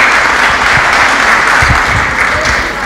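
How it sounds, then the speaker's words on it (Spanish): Loud, steady applause from an audience at a talk with a priest fills the whole stretch as dense, continuous clapping without a break. "Un aplauso para"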